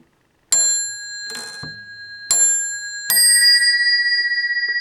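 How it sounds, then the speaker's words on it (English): An old telephone's metal bells ring in four sharp, bright bursts, the last one sustaining and slowly fading with a trembling ring. "Nice two clean bells"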